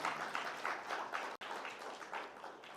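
An audience at an investor briefing claps in a steady, moderate burst of applause lasting a few seconds, broken by one brief dropout, with no talk over it.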